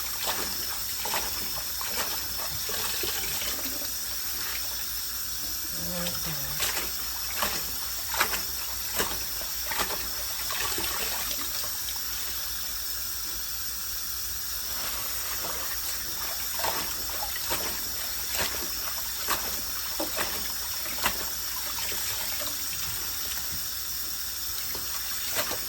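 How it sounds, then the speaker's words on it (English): Tap water gushing steadily into a pan of cleaned greens sitting in a kitchen sink, a continuous close splashing stream with small irregular bursts and no talk. "I want to fill them up till the water just about covers them"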